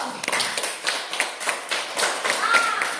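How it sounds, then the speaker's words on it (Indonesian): A short burst of scattered hand clapping from a small group of students in a classroom, steady and moderately loud, with no voices over it. "Kasih tepuk tangan dulu."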